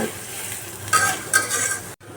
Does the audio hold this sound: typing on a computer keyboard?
no